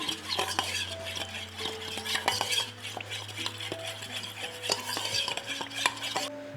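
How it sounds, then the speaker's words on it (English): Rice, beans and a yogurt mixture are stirred together in a pot for a crispy rice dish, with repeated utensil scrapes and clinks against metal over a faint sizzle, near and busy. "I'm just gonna mix it all together until it's well combined"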